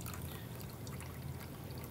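Water pours steadily into a vessel to make Tenmomi instant ramen, a soft, even trickling stream that runs throughout at low level, with no talking.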